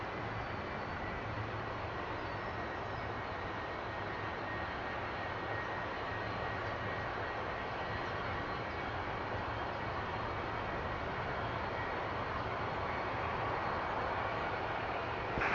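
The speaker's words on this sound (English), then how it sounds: "you do realize the left engine is still running, will be still running" A Boeing 757's engine running on the ground after a bird strike, a steady broadband roar heard from a distance at moderate level, continuous and unchanging throughout.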